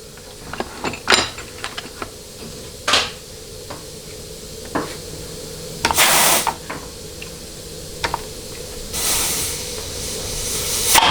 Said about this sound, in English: And again, it does not need a ton of air. I mean, I'm barely working this nozzle